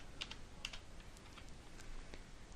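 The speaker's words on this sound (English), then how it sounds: "Type in !ping with your IP address at the command line." Keys clack on a computer keyboard as a ping command is entered at a command line, a quiet, irregular run of close taps with a few sharper strikes.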